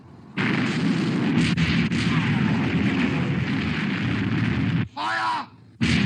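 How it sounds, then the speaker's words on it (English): Battleship gun turrets open fire in an old black-and-white British war film, a long loud roaring blast filling several seconds, then a brief break and another burst with a shouted voice. "All turrets ready to open fire, sir."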